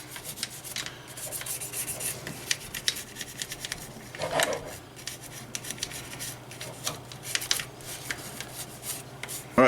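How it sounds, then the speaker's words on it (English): A polymer brush scrubs a CLP-oiled Type 97 Gen 3 trigger assembly up close, making soft, quiet, scratchy rubbing strokes in an uneven rhythm. "we're going to grab our polymer brush and we're going to give it a bit of a scrub down"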